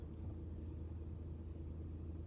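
A truck engine rumbles steadily as the vehicle drives, a low, constant drone heard from inside the cab with no speech.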